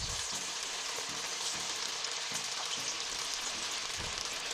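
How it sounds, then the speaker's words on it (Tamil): Marinated chicken pieces deep-frying in hot oil, a steady close crackling sizzle with dense hiss throughout, no voices over it. "இப்போ வந்து நான் மேரினேட் பண்ணி வச்ச சிக்கனை வந்து ஒன்று ஒன்றா நான் வந்து ஆயிலில் சேர்த்துட்டு ஃப்ரை பண்ண போகிறேன்."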